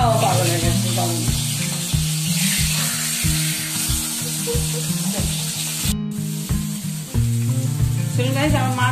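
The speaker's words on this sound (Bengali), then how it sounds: "আমার মাছ পুরো ভাজা হয়ে গেছে, সব রেডি মাছ ভাজা।" Fish fries in a pan with a strong, continuous sizzle and spatter, joined by a loud, rhythmic, tonal pulsing, likely music, that runs through the whole stretch.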